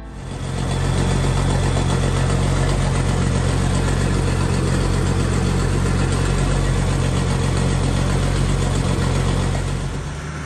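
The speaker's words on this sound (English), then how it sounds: "so I'm gonna go get the tractor spreader." A farm tractor engine idles steadily at close range on a snowy dairy farm, with a loud, continuous low rumble and vibration that runs throughout.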